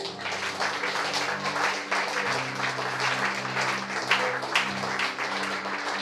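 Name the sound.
congregation applauding and acclaiming Jesus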